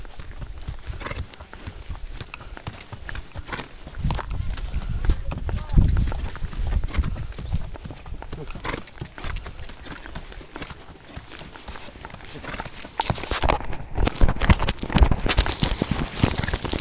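Horse hooves clip-clopping on a horseback ride, a steady close patter of steps under ongoing wind rumble, with people talking over it throughout.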